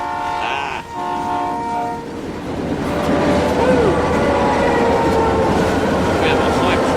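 A loud train sound effect plays on a live stream as a hype-train alert: horn blasts over rumbling rail noise, steady and close throughout, with a voice talking faintly underneath.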